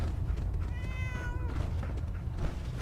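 A single cat meow rises clearly over a steady low background hum in the video game Fallout 4, aboard the Prydwen airship.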